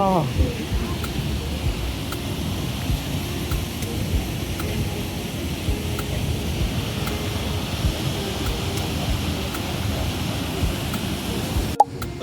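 Rushing water at a dam with power plant turbines, a steady broadband roar that holds at an even level throughout, with a brief sharp knock near the end.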